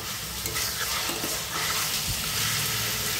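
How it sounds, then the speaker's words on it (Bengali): Mutton pieces sauté in a pan with onion and garlic paste, a steady close sizzle with scraping stirring strokes and no talk. "পেঁয়াজ আর রসুন বাটার সাথে মাটনকেও 5 মিনিটের মতো কষিয়ে নেব"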